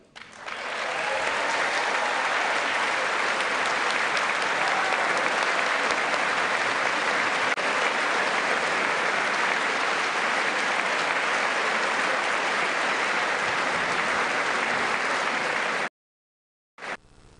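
Sustained, dense applause from a large crowd, steady and loud for about sixteen seconds, then a sudden cut to silence with a brief burst at the end.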